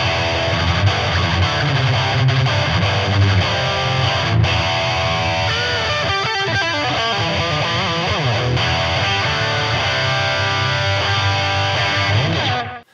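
An electric guitar plays through a BOSS DM-2W analog delay pedal set to a single repeat. Sustained, gritty chords ring out loud and continuous for about twelve seconds before cutting off.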